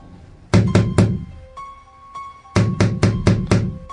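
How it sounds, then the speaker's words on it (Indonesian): Two bursts of firm knocking on a bedroom door, three quick raps and then five more, close and loud with a quiet pause between. "aku mendengar suara ketukan dari pintu kamar"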